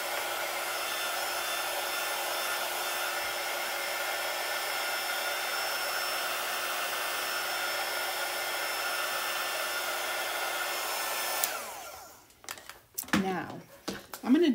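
A blow dryer runs steadily and loud for about eleven seconds while drying chalk paste on a craft project, then cuts off, followed by a few clattering handling noises and a voice.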